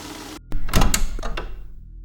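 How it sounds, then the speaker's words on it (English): A door swings shut with a solid thunk followed by a brief rattling clatter, then the sound fades into near silence. "The door closes again."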